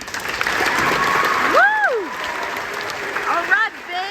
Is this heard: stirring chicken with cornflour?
no